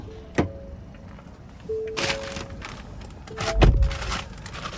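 Someone climbs into the driver's seat of a 2024 Ford Edge Titanium Elite: a door thunk, a few soft chimes, then a louder door slam near the end, all close and quiet.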